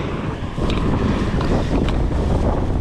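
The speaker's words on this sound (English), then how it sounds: "It is windy." Strong wind buffets outdoors on a rural road near Stonehenge, a loud continuous roaring rush with gusty swells and rumbling noise on the microphone throughout.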